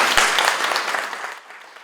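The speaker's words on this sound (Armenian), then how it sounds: "խնդրում եմ բոլորս նրանց ծափարենք իրենց ողջունենք" An audience in a hall applauds a music school choir from Akhalkalaki, a brisk burst of clapping that starts strong and fades away within about two seconds.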